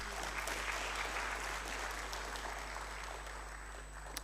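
Audience applause at a university research policy forum, steady dense clapping from a large crowd filling the whole stretch, tapering slightly near the end.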